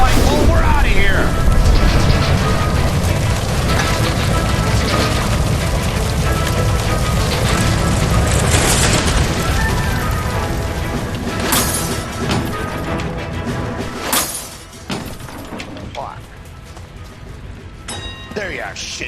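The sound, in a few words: gas line explosion in L.A. Noire video game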